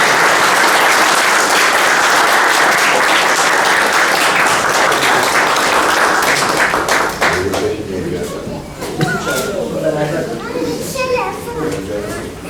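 Audience applause at an anniversary event after a guest speaker is invited to the stage, a dense burst of clapping that thins out after about seven seconds, with scattered claps and voices continuing beneath.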